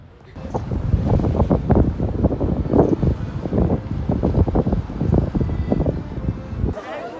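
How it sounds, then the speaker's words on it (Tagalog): Strong wind buffets the microphone in loud, rumbling gusts throughout, with a voice speaking underneath, outdoors near Mozart's birthplace. "Sobrang hangin"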